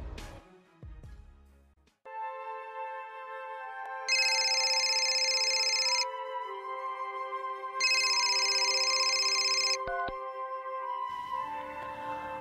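A telephone rings for an incoming call with a melodic electronic ringtone, repeating bright tonal bursts that play loud and close for several seconds with no talking over them.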